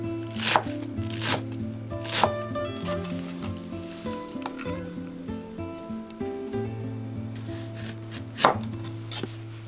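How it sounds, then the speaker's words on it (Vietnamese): Knife chopping scallions and cilantro finely on a cutting board for a Vietnamese duck and bamboo shoot noodle soup; quick steady taps close up, a few sharper knocks standing out over background music. "Lá hành và ngò rí thì mình cắt nhuyễn để làm rau nêm"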